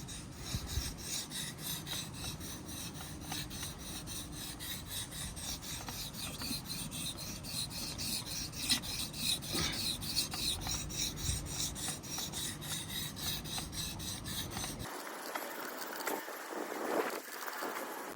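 A knife's convex edge being sharpened on whetstones with steady, rhythmic rasping strokes for about fifteen seconds. The strokes then stop and give way to a brief, different rubbing sound.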